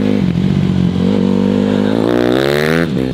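A Honda CRF150R dirt bike engine revs hard nearby, its loud buzzing pitch climbing and falling through several throttle blips before dropping back, with no voices over it.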